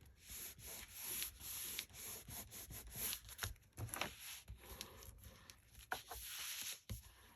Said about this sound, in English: Give it a good little burnish.